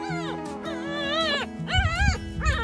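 A Labrador giving birth lets out a few high, wavering whimpers and whines, close and clear, across a couple of seconds with some low handling noise underneath.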